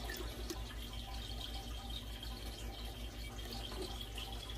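Water runs steadily from a tap into a bucket set aside for aquarium upkeep, a continuous faint splashing hiss with a low hum underneath and no speech.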